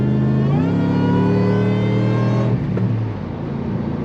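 A supercharged 2005 Ford Explorer Limited with a swapped 32-valve Eaton-supercharged engine revs hard nearby, pitch climbing with a whining supercharger tone, then dropping back as the throttle closes.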